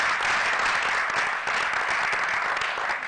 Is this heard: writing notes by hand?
no